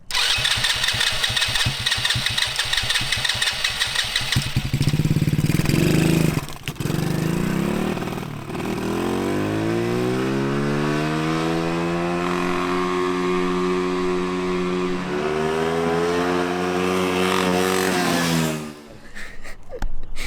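A 250cc mini quad cranks with rapid starter clatter, catches and fires up, then revs and accelerates with a rising, buzzing engine pitch that climbs through several steps, loud and close, before easing off at the end.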